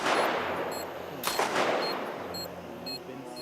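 Desert Eagle pistol fire in an esports first-person shooter match, heard as a couple of sharp, moderately loud gunshot cracks within a busy stretch of game sound.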